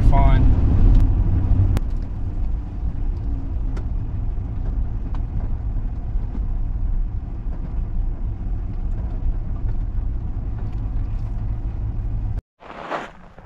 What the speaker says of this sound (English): Driving back this dirt road, live oak road